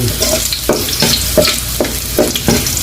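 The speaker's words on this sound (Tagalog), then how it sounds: "Gigisa na tayo. Alright. Bawang." Garlic sizzles in oil in a pan with a steady frying hiss, broken by regular scraping strokes of a spatula, roughly one every two-thirds of a second, close and loud.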